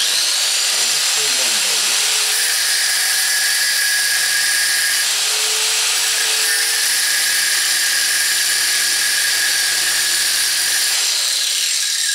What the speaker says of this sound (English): It is possible, just with an angle grinder, to cut the slot